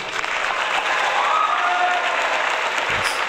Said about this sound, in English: you guys all get a round of applause